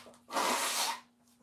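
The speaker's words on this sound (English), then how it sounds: "I blow my nose again" A single forceful nose blow, a broad noisy burst lasting under a second, close and fairly loud, with quiet room tone around it.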